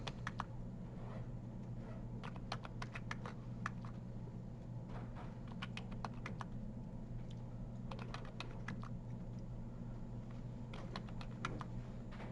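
Typing on a computer keyboard during stormwater pond design work, with bursts of quick, light key clicks separated by short pauses over a steady low room hum, close and fairly faint, without talking.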